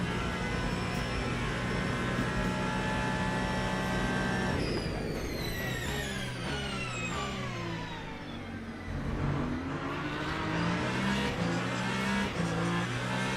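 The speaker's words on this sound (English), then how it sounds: "Beautiful sound of that Lambo." Lamborghini race car in the Le Mans Ultimate racing game, engine revving loud and continuous with a steady high whine, dipping briefly as it shifts down and then climbing again.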